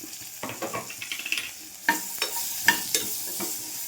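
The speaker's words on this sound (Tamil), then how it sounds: "இப்போ வெங்காயம் சின்னதாக 2 கட் பண்ணி வச்சுருக்கேன், அதை வதக்கலாம்." Small-cut onion sautéing in a pan with green chili for a turnip curry: a soft oily sizzle under repeated scraping stir strokes, close and fairly loud, with no talking.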